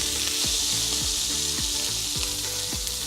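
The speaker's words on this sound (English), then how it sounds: "Oh, the sizzling." Loud, steady sizzling of rump steak frying in a hot pan with wine, Worcester sauce and garlic, with a few scraping stirs and pan knocks at intervals.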